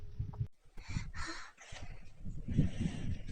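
Crows cawing outdoors, several harsh caws in uneven bursts that overlap one another, fairly close and loud, with no talking over them.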